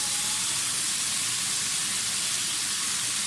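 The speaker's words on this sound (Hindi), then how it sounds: "अब आप टमाटर की प्योरी डाल दें।" Tomato puree poured into a pan of chicken frying for jalfrezi gives a steady, close hiss and sizzle that runs on without a break.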